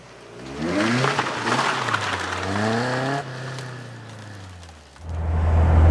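A Caterham 310R road-legal car is driven, its engine loud and near, revving up through rising tones with a shift, then dropping and settling into a lower rumble.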